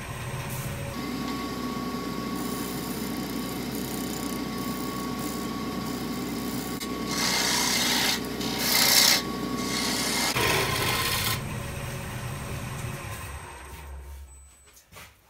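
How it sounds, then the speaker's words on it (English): Steady shear scraping of a green-wood natural-edge bowl on a spinning lathe with a 40-40 grind gouge, a continuous rasping hiss over a constant motor hum, growing harsher midway before trailing off at the end. "Just going to do a little bit of shear scraping with the 40-40 grind"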